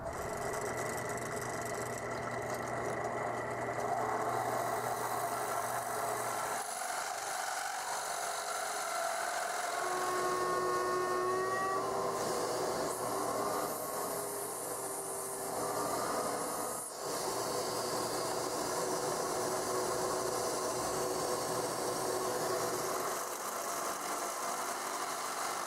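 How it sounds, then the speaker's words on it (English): A power drill runs steadily while it bores holes into a wooden board, giving a continuous motor whine with a brief pause partway through, close and fairly quiet throughout. "What I'll do is go and drill each one halfway and then flip the board over and do the other half."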